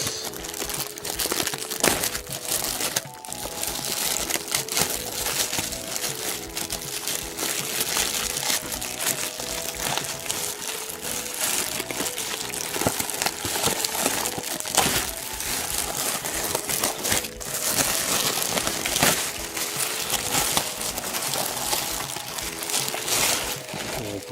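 Packaging for a Detective Conan detective-badge voice memo magazine supplement is opened, giving continuous loud crinkling, crumpling and tearing of plastic and paper for over twenty seconds.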